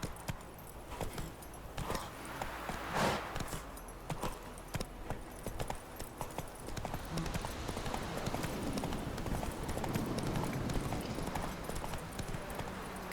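A horse gallops in The Witcher 3 video game, its hooves pounding in a fast, steady clip-clop rhythm that stays loud and close throughout.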